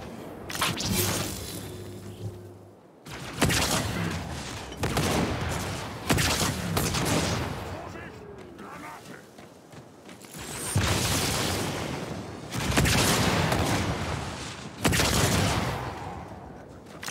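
Flak cannon fire in Halo 2 Anniversary, heavy blasts arriving in separate bursts a few seconds apart, each with a sharp onset and a decaying roar, loud and close.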